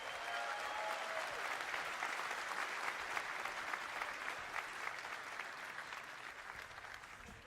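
Audience applause fills a large hall at CitizenCon, the Star Citizen convention, as a presenter takes the stage; steady, dense clapping of a big crowd holds for the whole stretch, tapering slightly toward the end.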